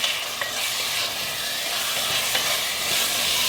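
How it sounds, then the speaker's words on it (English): Beef being stirred and fried in ghee or oil in a pan for jungli laal maas, a dense continuous sizzle with scraping stirring strokes and a few soft clinks, close and loud. "And now I'm gonna put this beef here. Okay, and mix this well."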